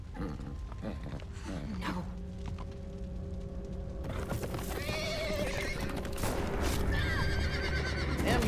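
A horse in The Walking Dead video game whinnies and neighs loudly with clip-clopping hooves, repeated calls rising over a continuous game background of tones and noise.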